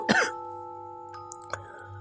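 One sharp, close cough bursts out at the start, then a sustained low hum fills the rest, broken by a couple of faint clicks.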